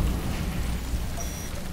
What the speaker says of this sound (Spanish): Tenemos la lluvia, o sea que hay que ir bastante rápido.